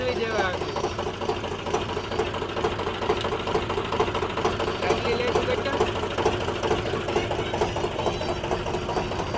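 A tractor engine runs steadily nearby with a rapid, even mechanical chug and rattle that continues unbroken throughout, while people talk over it.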